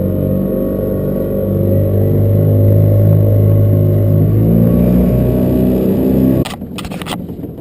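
Dinghy outboard motor running on the water during a bass and lobster fishing trip, a loud steady droning hum with even engine pulses that cuts off abruptly near the end, leaving quieter clattering.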